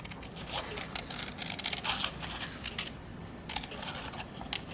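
Scissors snip and scrape through a paper polyhedron net in a run of short, close cutting strokes, with a brief pause partway through.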